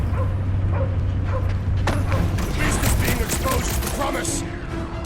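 Cosmo the space dog barking in the Guardians of the Galaxy video game, a few yips and barks amid loud battle noise, gunfire and mechanical clatter, with voices shouting nearby.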